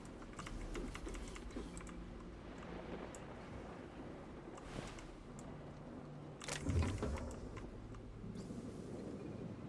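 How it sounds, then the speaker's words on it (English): Computer keyboard typing within The Outer Worlds game, a quick run of light clicking keystrokes over a continuous low ambient hum, with a brief louder burst of clatter near the end and no voices. "I love this keyboard."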